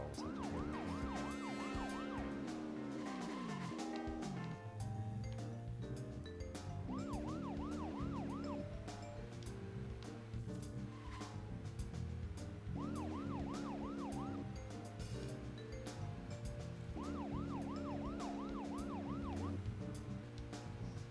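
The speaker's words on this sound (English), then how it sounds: "I wish you didn't have to hit the siren to boost your car a bit." Wailing car siren from the video game Deadly Premonition, rising and falling in repeated bursts over a steady game soundtrack, loud and continuous throughout.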